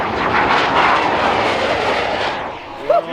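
Bugatti Chiron with four turbos at full throttle, passing near 244 mph at 6,000 feet elevation: a loud, sustained broadband roar and wind rush that fades toward the end, followed by brief voices.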